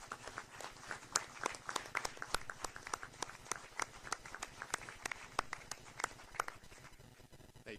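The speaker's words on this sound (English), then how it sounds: "give them a round of applause for their service" A meeting audience applauds Michigan National Guard members in recognition of their service: a fairly quiet, steady run of many hands clapping at a distance that continues for several seconds before tapering off.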